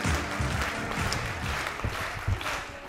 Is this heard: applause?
yes